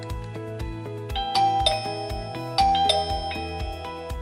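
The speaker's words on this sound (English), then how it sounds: "The doorbell and chime will generate a sound." A ZKTeco video doorbell's wireless chime plays a bright multi-note ding-dong melody during pairing, clear and moderately loud indoors with no talking.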